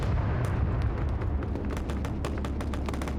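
An A-10 strike in a military shooter game: dense rumbling explosions and rapid sharp cracks, loud and continuous, with a heavy low-end roar throughout.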